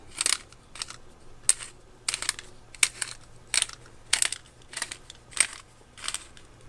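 Rhythmic gritty crunching bursts repeat close up as a hand-turned salt grinder crushes coarse sea salt, grinding unevenly, with brief pauses between twists.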